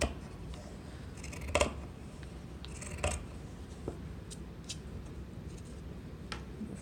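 Scissors snip through pinned fabric for a patchwork pillow, a few sharp close cuts scattered over a quiet room background with no talking.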